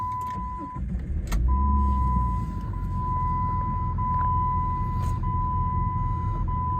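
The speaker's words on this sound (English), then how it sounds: "just start her up" A 2004 Jeep Grand Cherokee 4.0 petrol engine turns over and settles into a low idle, while a steady seatbelt warning beep sounds throughout.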